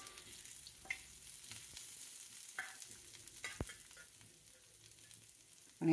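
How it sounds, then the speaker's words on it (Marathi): Chopped onion and garlic frying in a pan over low gas for a drumstick pod curry, giving a steady low sizzle with occasional stirring scrapes and clicks, no one talking. "आता याच्यावर मी कांदा टाकून घेणार आहे चिरलेला आणि लसूणही टाकते"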